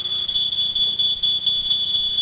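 A smoke detector alarm sounds a loud, piercing, continuous high-pitched electronic tone, close by and unbroken, with no voices over it.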